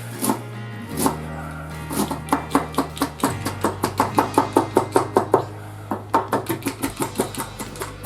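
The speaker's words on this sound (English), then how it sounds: "We're going to chop our parsley" A knife chops parsley on a cutting board for a Dutch beef croquette, giving a loud, close run of sharp, rapid, evenly spaced knocks that speeds up into bursts with short pauses between them.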